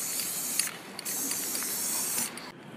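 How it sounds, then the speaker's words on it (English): Steady hiss of an aerosol can spraying satin black paint onto a Jet Fuel stem, continuous for a couple of seconds with brief dips and a clean cutoff at the end. "take your favorite can of spray paint, satin black right here for me"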